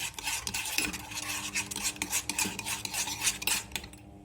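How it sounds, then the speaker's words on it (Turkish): A spoon scrapes and clinks rapidly around the inside of a small metal cezve while Turkish coffee is stirred before heating, producing close, continuous rasping strokes with no talking. "Güzel bir şekilde ocağa almadan önce güzelce karıştırmamız gerekiyor arkadaşlar"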